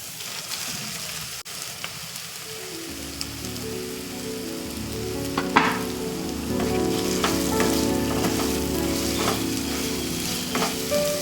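Small fish pieces fry in a pan for an Andhra tamarind fish curry, a steady rain-like sizzle that swells as more pieces go in, with occasional stirring knocks, close and continuous.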